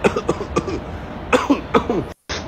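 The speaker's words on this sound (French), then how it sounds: "je tousse" A man with a cold, sniffling in chilly Paris, coughs repeatedly in several short rough bursts, close to the microphone, with a brief silent gap near the end.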